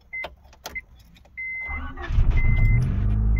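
A 1991 Honda Civic RT4WD EF wagon with an overheating problem and a suspected blown head gasket starts up: a few electronic chimes and beeps, then a brief crank before the engine catches and settles into a loud, steady idle close by.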